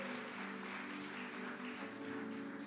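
Church congregation applauding during a sermon, steady continuous clapping heard faintly from a distance for a few seconds.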